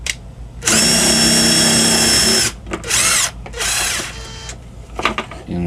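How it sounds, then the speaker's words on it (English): A power drill bores a small hole in a prepared copper sheet, whining loudly in several bursts of differing length with short pauses between them. "drill a small hole"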